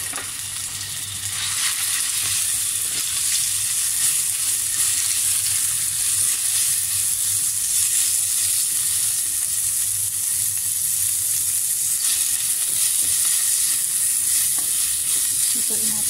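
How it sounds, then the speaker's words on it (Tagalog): Minced pork sizzles and fries steadily in a pan, a constant bright crackle filling the scene, with a brief stir near the start. "iluluto muna natin ang ating minced pork"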